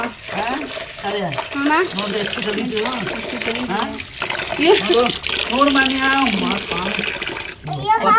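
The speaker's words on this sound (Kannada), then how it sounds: "ರಾಗಿನ ಚೆನ್ನಾಗಿ ತೊಳಿತಾ ಇದ್ದಾರೆ." Finger millet (ragi) is washed by hand in water, with sloshing and trickling throughout while someone talks over it almost continuously.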